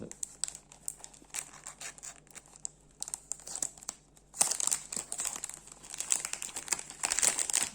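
Cardboard game box for Too Many Bones being opened, with crinkling packaging and rustling that grows busier and louder partway through, close up and without speech.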